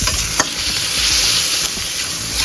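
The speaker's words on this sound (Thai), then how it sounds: "เสร็จแล้วก็ใส่หมูลงไปค่ะ ผัดหมูให้สุกก่อนค่ะ" Minced pork stir-frying in a hot pan for a Thai basil pork omelette: a dense, even sizzle runs throughout, with a couple of sharp utensil scrapes and taps.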